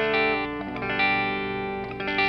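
An electric guitar played through a BOSS JB-2 Angry Driver overdrive pedal, with the guitar's volume knob turned down for a cleaner, lightly driven tone; a few strummed chords ring out loud and close, with no talking.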